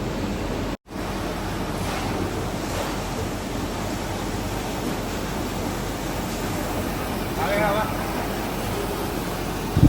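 Steady wind buffets the microphone with a constant rushing roar, loud and close throughout, briefly cutting out near the start.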